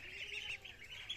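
Ducklings being raised at a village home call in a steady run of high, thin peeps, close by and fairly faint, with no talking over them.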